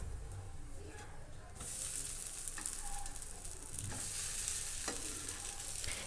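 A dosa flipped onto its other side on a tawa, a brief scrape followed by a louder, steady sizzle, with a few faint scraping ticks throughout, no voices.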